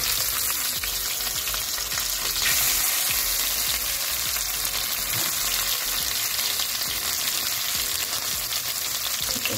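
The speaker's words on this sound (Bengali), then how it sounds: "মাছগুলো অল্প অল্প করে ভেজে দিচ্ছি।" Prawns fried in small batches in hot oil for a Bengali prawn malai curry, a dense, steady sizzle with crackling pops, close and continuous with no talking.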